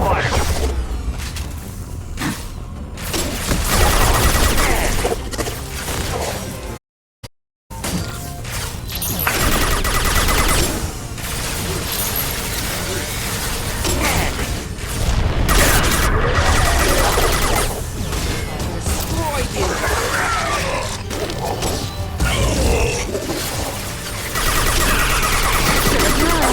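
Gunfire and blasts fill a combat scene in Mass Effect Legendary Edition 2, dense and loud throughout, with a short silent gap partway through and people talking over the action.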